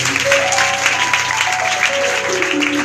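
A church congregation at a village night worship service breaks into loud, dense applause, sustained and even throughout with no break, heard up close.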